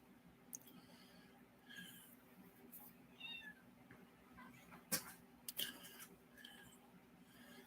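A shop cat meows several times, short separate mews scattered over a steady low hum of a workshop interior, with no talking.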